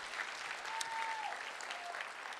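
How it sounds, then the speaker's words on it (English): Audience at a state keynote clapping steadily and densely, a short burst of applause at moderate distance with no speech over it. "Y'all can clap it up for that."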